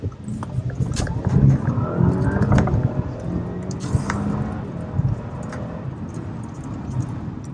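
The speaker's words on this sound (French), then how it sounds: "Regardez, on va accélérer un peu." Audi A6 sedan accelerating on the road, its engine note rising in pitch across several gear steps under steady road and tire noise, heard from inside the cabin at moderate volume.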